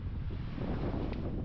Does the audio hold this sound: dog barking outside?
no